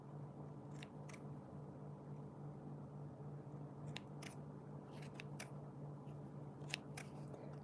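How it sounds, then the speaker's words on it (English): Scissors snip fluffy stray fibres from a small felted wool penguin, giving a series of sharp, quiet clicks spaced irregularly over a faint steady background hum. "I will take scissors and remove this fluffiness."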